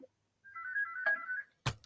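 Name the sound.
mobile phone ringtone ringing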